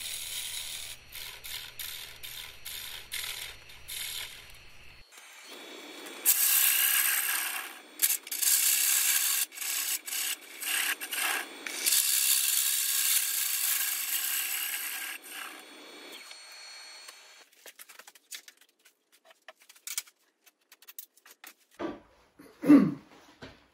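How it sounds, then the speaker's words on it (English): A wood lathe hollows the inside of a burl bowl, with bursts of loud, hissing cutting and scraping in long stretches, broken by quieter gaps, then a few scattered knocks near the end. "I've now moved the tailstock support and just finishing off the inside of the piece."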